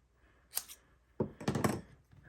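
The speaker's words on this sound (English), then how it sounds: "we are gonna take and cut this piece in half" Scissors cutting a piece of paper in half for a paper craft envelope book, one short snip followed by a longer crunching run of close, crisp cuts.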